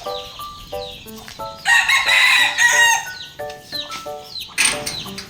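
Backyard chickens with a rooster crowing loudly and close by, several harmonic crows rising and falling over clucking hen calls, no voices.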